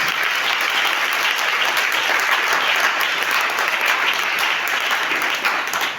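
A church congregation applauds and cheers for Jesus, a dense, steady roar of clapping that fills the room loudly and continuously without a break.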